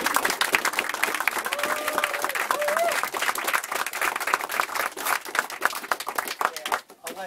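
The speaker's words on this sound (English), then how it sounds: "Round of applause." Applause from an audience at a military promotion ceremony, dense steady clapping that fills the room for several seconds before thinning out near the end, with some voices mixed in.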